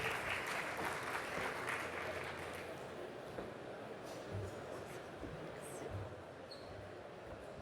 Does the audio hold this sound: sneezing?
no